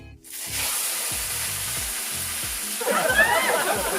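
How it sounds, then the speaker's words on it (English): A big steak sears loudly in a hot pan, a steady broadband sizzle that swells and crackles harder near the end, with a few soft knocks and handling sounds underneath. "we want to sear each side of the steak"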